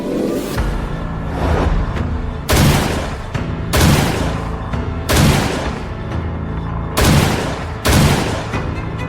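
Loud, sharp gunshots fired one at a time at irregular intervals at a shooting range, each followed by a brief ringing echo over a constant background hum.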